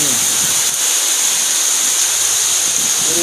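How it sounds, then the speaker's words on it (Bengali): A storm with strong gusting wind and driving rain makes a loud, steady roar of rushing noise that fills the scene for the whole stretch, with no let-up. "এখন এই মুহূর্তে আসলে ঝড় হচ্ছে এই যে বন্ধুরা দেখুন বেশ জোরে বাতাস বলছে"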